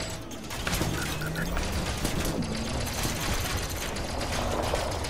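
Turret gunfire in the Elite Dangerous video game: rapid, rattling bursts of fire over a steady mechanical drone, fairly loud and continuous, no talking.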